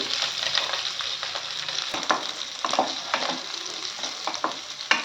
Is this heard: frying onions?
yes